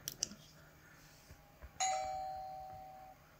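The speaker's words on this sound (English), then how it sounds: "he rings the doorbell." After a few faint clicks, an electronic doorbell rings once with a clear sustained tone that fades over about a second.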